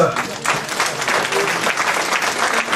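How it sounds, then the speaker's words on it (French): Crowd applause at a town New Year's greetings ceremony, dense steady clapping from a hall audience, loud and continuous. "on peut l'applaudir, Jean Pieters."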